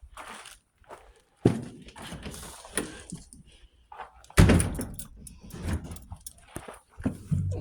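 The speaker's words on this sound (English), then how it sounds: "Door shut." A large farm equipment shed door rattles and clanks as it is pulled shut, with mechanical scraping, footsteps and a loud heavy bang midway, close by.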